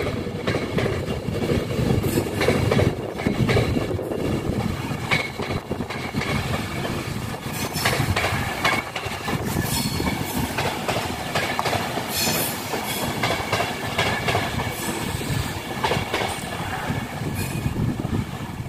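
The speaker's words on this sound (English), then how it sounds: "The Avanti West Coast 390009 had just passed." Avanti West Coast Class 390 electric train passing through Carlisle station, a loud continuous rumble with clattering wheels and metallic squeals, close and sustained throughout.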